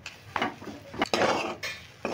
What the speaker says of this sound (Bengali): এবার ভাজা মশলাটা একটু মিশিয়ে নিচ্ছি।